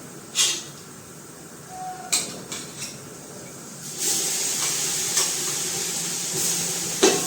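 Asafoetida and ginger-chili paste drop into hot oil with a few sharp crackles, then a steady loud sizzle and hiss swells and carries on with occasional pops, up close.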